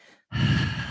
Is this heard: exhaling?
yes